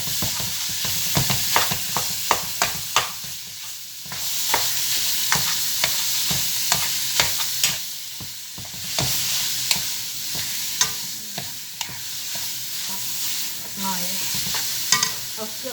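Food fries and sizzles in a pan while being stirred, with a steady hiss punctuated by frequent scraping and clattering strokes of the utensil, close and loud, in a home kitchen.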